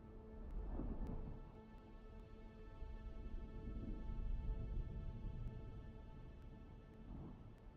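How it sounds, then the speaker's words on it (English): A thunderstorm rumbles through the video game Dune: Awakening, low rolling thunder swelling and fading over a steady hiss of rain, fairly quiet and with no talk. "there's lightning and everything"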